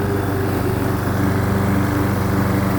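A lawn mower fitted with a test muffler mulches grass, its small engine droning loud and steady at close range with no pauses.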